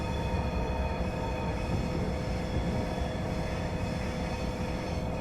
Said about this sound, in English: I believe the Acela is the fastest train we have in the United States.